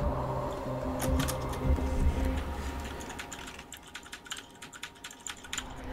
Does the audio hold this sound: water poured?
no